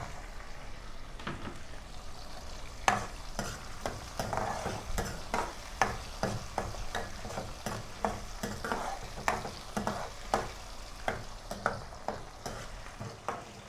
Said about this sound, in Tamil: பாருங்கள், வெங்காயம் பச்சை மிளகாய் பூண்டு எல்லாம் நல்லா வதங்குது